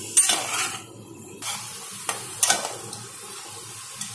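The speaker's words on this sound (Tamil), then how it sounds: "சிக்கன் நல்லா வதங்கிருச்சுங்க." Chicken sautéing in a pan for a South Indian chicken curry: a steady sizzle with scraping stirs and occasional clinks of a spoon against the pan, close up and without talking.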